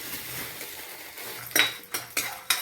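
Peanuts tipped into a hot pan to roast, heard as quiet frying followed by several sharp metallic clinks and rattles of a spoon against the pan, close and with no talk.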